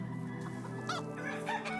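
Hens cluck in short bursts inside a hen house in the Medieval Dynasty game, set against a steady low hum.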